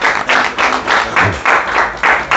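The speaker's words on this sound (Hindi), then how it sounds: "एक बार अपने लिए जोरदार ताली बजाइए दिल खोल के।" An audience claps loudly and steadily in rhythmic bursts, a dense close applause with no voices.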